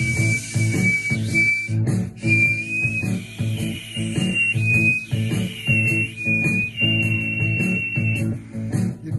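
Palatal whistling made with the tongue pressed to the roof of the mouth: a loud, high, sustained whistle that slides and wavers in pitch, broken by a few short gaps, over a steady low rumble.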